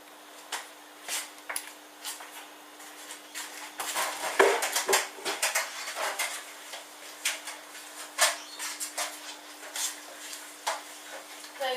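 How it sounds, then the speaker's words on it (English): Cutting board covered in fruit juice being washed, with scattered clattering knocks, scrapes and splashy bursts under a constant faint tap hum, irregular and close. "I was going to wash this board because there is a lot of juice on the board"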